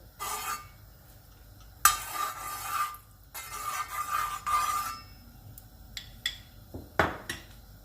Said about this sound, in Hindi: अभी तवे के ऊपर हम घी लगा लेते हैं।